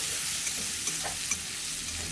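Elephant apple and prawn sour curry cooking in a pan with dried chilli and five-spice tempering, a short steady sizzle with a few faint clinks of stirring, close and unbroken.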